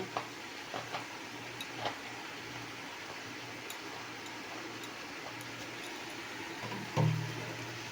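Oil heats in a wok (kadai) with dried red chillies, a faint, low sizzle running steadily under a few light ticks and clinks, ending with a brief louder knock.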